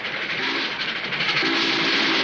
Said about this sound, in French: Je parie que c'est le train.